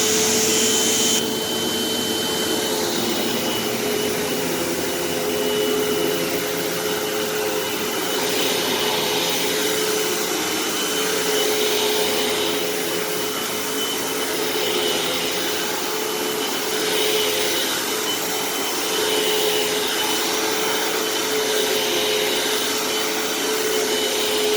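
Hoover WindTunnel Tempo upright vacuum cleaner running across a living room, a loud steady motor whine with gentle swells as it is pushed back and forth, with no talk.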